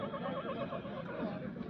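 A mare at a fair whinnies with a wavering, repeated neigh at moderate distance, heard faintly against a busy crowd background with voices.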